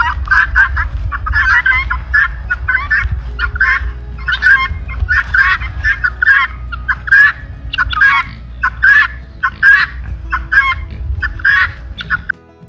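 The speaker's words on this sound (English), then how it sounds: "The guinea fowl are in tow, wondering what's going on." A flock of chickens and guinea fowl calls constantly nearby, with rapid harsh chattering cries and clucks in quick rhythmic bursts over a low rumble.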